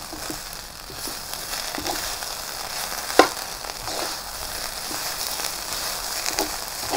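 Fried rice with oyster sauce stir-fried in a pan for a Chowking-style chowfan, giving a steady close sizzle with scraping stirs throughout and one sharp clack of the utensil partway through.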